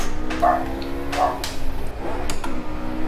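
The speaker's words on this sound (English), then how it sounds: "that's a dog in the background" A dog barks a couple of times in the background at a house on a western coast, short yips well behind a faint steady engine-like hum, with no talk over them.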